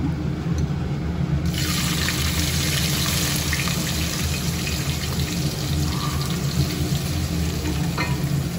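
Onions for a dhaba-style chicken curry frying in a pan, a close, steady sizzle that swells after the first moments and holds throughout without talk.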